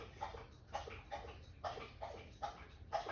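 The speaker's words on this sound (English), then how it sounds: "My dog is drinking water in the background, by the way." A dog laps water from a bowl in a steady rhythm of soft wet slurps, about two per second, faint and in the background.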